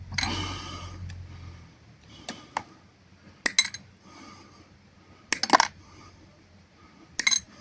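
Scrap brass pieces are dropped into a small box, sharp metallic clinks in separate clusters of two or three hits with quiet pauses between, close and fairly loud.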